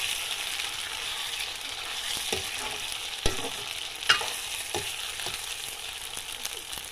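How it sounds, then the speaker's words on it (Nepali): Tomatoes fry for a fish curry with a steady close sizzle in a pan, while a spoon stirs through them, giving a few sharp scrapes and knocks against the pan. "अब यो टमाटर हाल्छु। चलाउनुपर्छ मजाले।"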